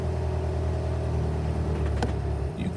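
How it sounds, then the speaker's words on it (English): A BMW 1 Series engine with a DPF problem, held at full throttle, gives a loud, steady rumble close by and then falters briefly as it threatens to cut out. "You can hear the engine wants to cut out"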